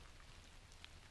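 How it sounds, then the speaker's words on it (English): Rain coming down outdoors along a rail trail, a faint, steady patter with scattered droplet ticks and no voices. "I don't know if you can hear the rain, but it's coming down."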